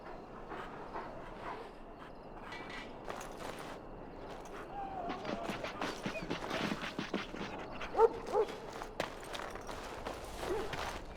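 Hounds in Dragon Age: Origins let out a scatter of yips, whimpers and short barks, denser toward the end, mixed with background ambience and spoken voices.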